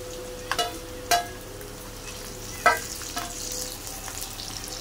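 Garlic and chili sizzling in a pan with oil and browned coconut, a steady low frying hiss broken by a few sharp clinks and scrapes of a stirring spoon.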